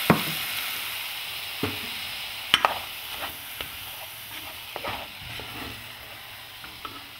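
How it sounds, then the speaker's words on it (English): Poblano peppers sizzle steadily in a chili pot as light beer is added, a continuous frying hiss broken by a few sharp clinks and scrapes of stirring, fairly close and with no voices. "Put a little bit of a light beer in here just to give it a little bit of flavor"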